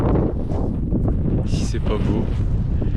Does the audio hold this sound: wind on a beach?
yes